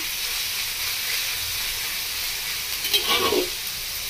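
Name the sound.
pointed gourd and onion frying in pan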